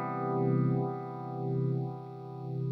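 Fast, steady vibrato-phaser sweep from a ZVEX Candela Vibrophase pedal running at its top speed in low gear, cycling roughly once a second over a sustained, slightly distorted guitar chord, with no talking.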